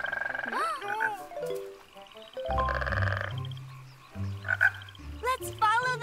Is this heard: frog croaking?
yes